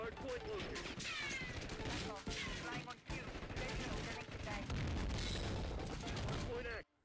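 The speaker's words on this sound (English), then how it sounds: "You can just make a random explosion here by actually going in" Explosions and gunfire ring out in a Call of Duty Black Ops 6 match on the Nuketown map, a dense, loud barrage of booms and shots with no pauses over the whole stretch.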